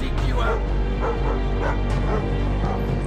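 In the stealth video game Thief, a dog barks and yips repeatedly in quick bursts, close and loud, with a voice talking over it.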